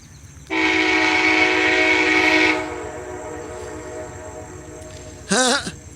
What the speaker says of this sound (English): Yep, that's the train.